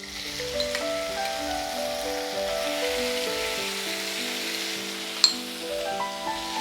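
Marinated squid pieces, seasoned with turmeric and salt, hiss in a hot pan with a steady, even sizzle beneath gentle background music.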